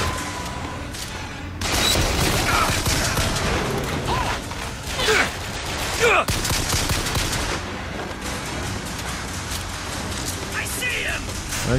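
Pistol gunfire in the video game Bioshock Infinite, several sharp shots and mechanical clatter over a dense game soundscape, with people talking over the action.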